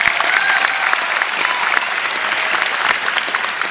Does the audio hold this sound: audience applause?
yes